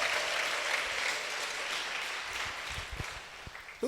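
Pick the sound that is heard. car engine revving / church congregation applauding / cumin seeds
church congregation applauding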